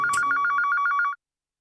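A telephone rings at a city hotel's reception desk with a rapid, loud electronic trill of about a dozen even pulses. It cuts off abruptly after just over a second, leaving silence.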